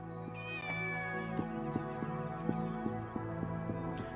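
A cat in the video game Shenmue gives one clear, drawn-out meow near the start, over a quiet, steadily repeating clicking game background.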